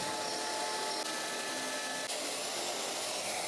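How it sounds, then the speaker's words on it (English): A woodworking power tool runs continuously, cutting out a wooden infill piece in a shop, with a steady high-pitched whine that dips briefly twice. "we're going to cut out our infill piece"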